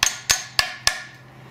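Four sharp metallic hammer blows strike a brake caliper casting while the front brakes of a 2011 Cadillac SRX are being serviced, evenly spaced, close and loud, each ringing briefly before fading.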